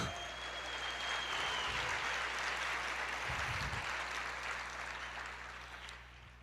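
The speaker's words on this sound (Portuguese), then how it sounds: "Aplauda mais," A church congregation applauding, a broad sustained wash of many hands clapping that fades slightly toward the end, with a low hum and a faint voice underneath.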